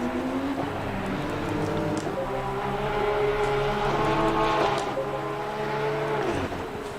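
Porsche Sprint Cup race cars at Brands Hatch, their engines howling as they pass in a steady blended roar with shifting pitch that holds loud for several seconds, then eases slightly at the end.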